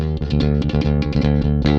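A bass guitar played through a Lusithand NFP filter preamp with the neck filter turned fully up, giving a defined rock tone: a loud, close run of punchy, steady notes.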